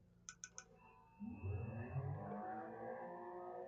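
A car engine revs up in the Assetto Corsa Competizione racing game, a low rumbling rise following a few short clicks, fairly quiet and heard alone.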